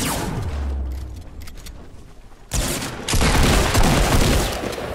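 Rapid bursts of gunfire in the video game Fortnite, loud and close. The shots get denser and more sustained in the second half, with a brief low rumble near the start.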